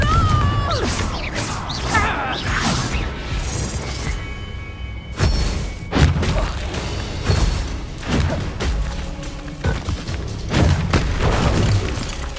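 Blasting spell explosions in the Hogwarts Legacy video game: repeated loud booms and crashing impacts through a busy battle soundscape, with sharp blasts recurring every second or two over continuous rumbling.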